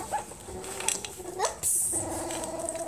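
One-week-old puppies whimper and squeak in short, thin cries, several faint whines scattered close by, with a higher squeal near the end and a low steady hum underneath.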